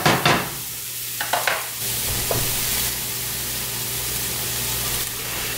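Brook trout fillet frying skin down in a pan on an ice-fishing trip, a steady broad sizzle running throughout with a few sharp crackles and spatters near the start, close and alone.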